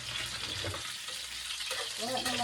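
Fried rice sizzles in hot oil at an early-morning home breakfast cook-up alongside eggs and dried fish, a steady close crackle running throughout with a faint clatter of stirring and voices talking over it.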